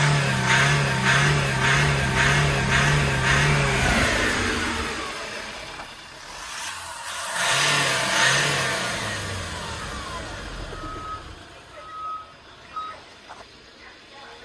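A 2018 Bongo one-ton truck with about 142,800 km revs its engine with rising and falling pitch. A steady electronic beeping runs through the first few seconds, then the engine winds down to a lower idle with some faint knocks.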